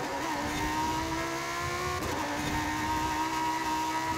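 Lamborghini Super Trofeo race car engine in Forza Horizon 5, a steady sustained engine drone with harmonic whine and a brief shift-like change midway, loud and continuous with no talking.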